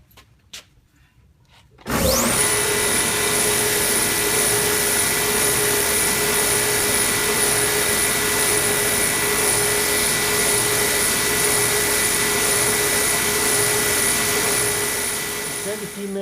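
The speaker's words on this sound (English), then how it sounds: "So when you want to sand it, you use light pressure and just touch it real easy until it sands away" A belt sander working a wooden door panel starts up after a brief quiet moment, then runs as a loud, steady whine with a constant high tone and broad grinding hiss, holding evenly for the rest of the clip before easing slightly at the end.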